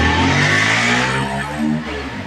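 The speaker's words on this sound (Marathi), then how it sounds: "अरे बापरे, जोरात आवाज करत गेली तिची गाडी।" A vehicle roaring past loudly on a village road, a brief close engine surge that peaks and then fades away.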